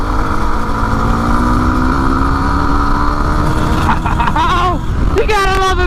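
A Yamaha WR250R motorcycle engine on a wet road revs as the throttle is twisted, a loud steady drone near at hand that rises in pitch, with a rider talking over it.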